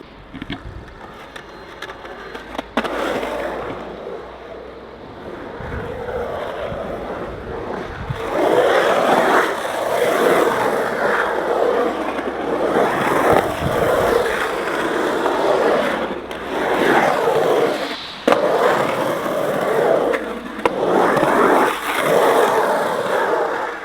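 Skateboard wheels roll and grind across a rough, sandpaper-like concrete skate park bowl, a continuous gritty rumble swelling and fading as the rider carves through pockets, with occasional sharp clacks of the board.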